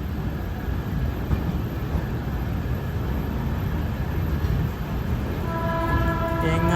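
A train at a railway platform in Gujarat, a steady rumbling roar of cars passing close by, with a faint rising tonal whine near the end.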